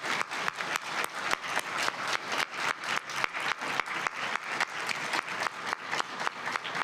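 An audience at a county recovery summit claps together in a steady, rhythmic beat, with loud, evenly spaced claps throughout.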